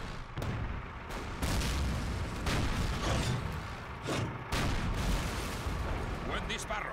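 Gunfire in a Call of Duty video game, with repeated sharp shots and booming blasts at irregular intervals over a steady battlefield rumble.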